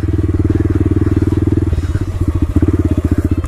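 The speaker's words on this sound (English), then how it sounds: "This is where I take the pit bike. Or used to take the pit bike, because I'm sending it." A small pit bike motorcycle engine revs close by while riding, in a loud, fast, pulsing single-cylinder putter that briefly stutters midway, then picks back up.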